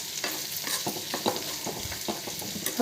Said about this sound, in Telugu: దీంట్లోకి ఇప్పుడు మునక్కాయలు ముక్కలు వేసేసుకుందామండి. ఇలా ఫ్రై చేసుకుందాం.